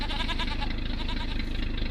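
Goats bleating in Farming Simulator 25 on the Lipinki map, a dense run of overlapping calls over a steady game background with no talk, continuous for the whole stretch.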